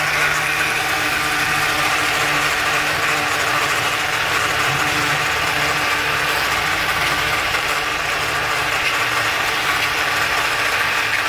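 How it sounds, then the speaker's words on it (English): Electric sander running continuously, used to cut down blinds that are too wide, giving a steady, close, loud buzzing whir with no pauses and no talk. "take the sander"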